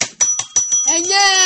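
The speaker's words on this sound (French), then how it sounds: "Depuis quand tu prends une putain de sonnette" Bicycle bell rung repeatedly in quick succession, about five bright metallic dings followed by a longer sustained ring, loud and close with no talk over it.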